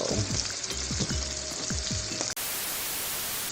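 Rainbow trout cubes fry in hot grease with a loud, steady sizzle and crackle, punctuated by a few scraping stirs, before cutting off abruptly into a softer hiss.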